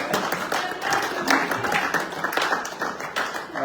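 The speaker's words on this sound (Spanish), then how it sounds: "Aplaudan, está bien." Church congregation applauding at the close of a Pentecostal teaching service, a steady dense wash of clapping that holds at even loudness throughout, with no voices over it.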